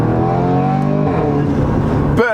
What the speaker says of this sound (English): with the valves open, this is quite loud inside the car